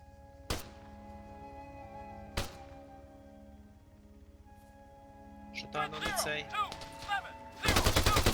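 Arma III machine gun fire: two sharp isolated shots ring out early, then after a quieter stretch with voices chattering, a loud dense burst of rapid automatic fire erupts at the end.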